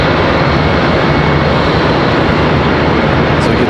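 A Piedmont Airlines plane departs Charlotte Douglas International Airport, bound for Montgomery. Its engines roar loud and close in a dense, steady wash of sound that holds throughout, with no voices.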